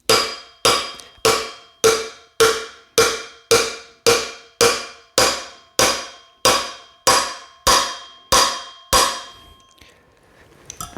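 A hammer taps a KTM wheel bearing into place with about fourteen evenly spaced, sharp metallic knocks, each ringing briefly, close and loud, before the tapping stops.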